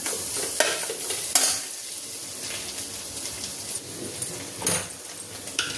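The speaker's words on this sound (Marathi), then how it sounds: "आता ही चटणी अशी हलवून घ्यायची आहे" Boiled, peeled potatoes being stirred in a pan for a low-oil fasting dish, with a bright sizzle and repeated scraping of the spoon against the pan, close up and without talk.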